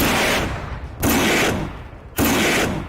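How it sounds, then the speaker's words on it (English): Fireworks at a dirt-track racing event at Eldora or Lernerville go off as three loud, booming bursts about a second apart, each followed by a decaying rumble, with no voices over them. "Look at the fireworks."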